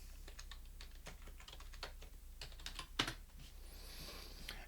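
Computer keyboard typing, a close run of quick, irregular key clicks over a low hum, with a slightly louder keystroke near the middle.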